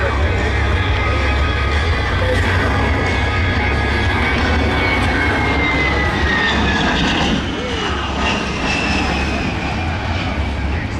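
An A-10 Thunderbolt II jet manoeuvring at an air show gives a loud continuous engine roar with shifting whine, while an announcer's amplified voice talks over it.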